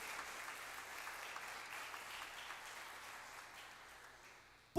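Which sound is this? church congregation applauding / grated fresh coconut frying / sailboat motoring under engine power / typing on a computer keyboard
church congregation applauding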